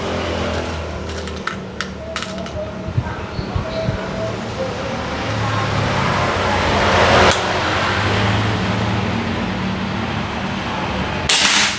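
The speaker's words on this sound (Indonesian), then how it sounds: "Tembakan keempat." A single sharp shot from a Daystate PCP air rifle cracks out near the end, preceded by outdoor background rumble and a few faint clicks.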